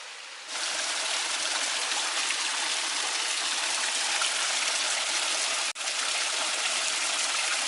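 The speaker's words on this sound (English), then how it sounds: "the sound of running water" A waterfall in Tenerife rushes and pours steadily, a constant full roar with no other sounds.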